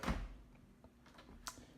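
A hotel room door opens with a heavy close thunk at the start, followed by faint clicks and rustles in a quiet marble-floored room.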